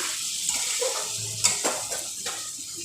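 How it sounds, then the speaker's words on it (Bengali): Water poured into a simmering potato and paneer curry in a pan: a steady, close hiss of liquid with a few light utensil clinks and scrapes. "ঠিক এই সময়ে আমি জল দিয়ে দিব।"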